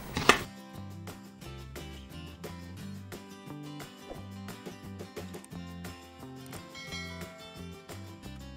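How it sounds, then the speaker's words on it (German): Sewn fabric strips being cut apart, a series of crisp, regularly spaced snips close up over a low background hum, with one sharper cut near the start. "Und jetzt schneide ich sie einfach auseinander, so lang."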